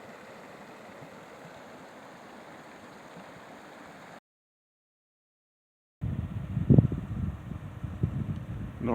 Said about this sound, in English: You can hear the wind too.